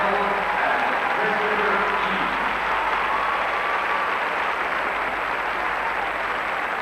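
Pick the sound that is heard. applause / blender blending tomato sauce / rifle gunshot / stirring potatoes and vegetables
applause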